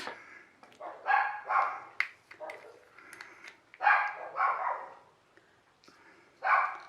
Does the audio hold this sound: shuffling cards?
no